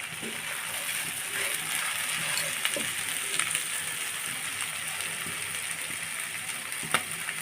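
Spice paste for an egg curry sizzles and fries steadily in a pan, a dense continuous crackle with a few louder pops, close and alone with no voices.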